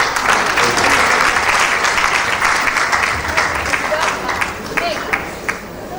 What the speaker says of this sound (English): Please, can we applaud the President of the Senate one more time?